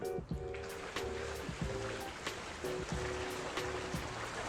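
A MasterSpas swim spa with pump 1 switched on, its jets churning water in a steady, rushing flow with low turbulent gurgling, fairly close and continuous, with no talk.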